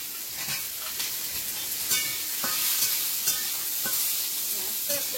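Chopped onion with whole cumin fries in a small amount of oil in a kadai, giving a loud steady sizzle with intermittent stirring scrapes throughout, no talk.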